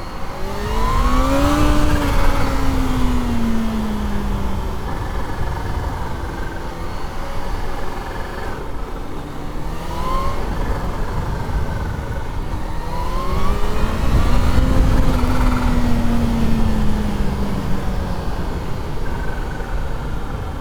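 A road-legal motorcycle engine pulls hard at about a quarter throttle, its loud, steady roar rising in pitch through repeated climbs with brief gear-change dips, heard close and continuous for about twenty seconds.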